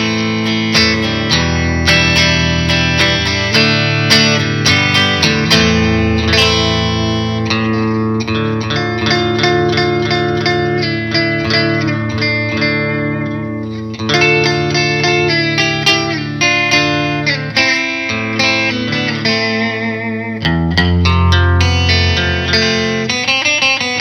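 A Squier 60s Thinline or Fender 52 Reissue Telecaster electric guitar plays loud chords and riffs through distortion, sustained and ringing with reverb, continuous and alone with no voices.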